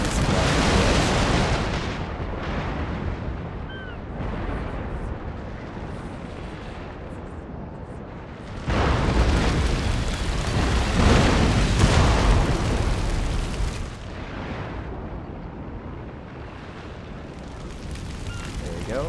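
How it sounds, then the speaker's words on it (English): Burning ship exploding in an Empire Total War naval battle, loud rumbling blasts and crackling booms rolling on and off with a heavy surge midway, while someone talks over the game. "there we go, about to blow up"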